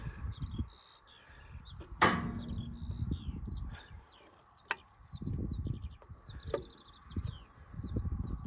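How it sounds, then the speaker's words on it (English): A bird sings outdoors on a farm during a Ford tractor repair, with repeated bright chirping phrases throughout, a sharp knock and brief clatter near the start, and low background rumble. "you hear that bird singing?"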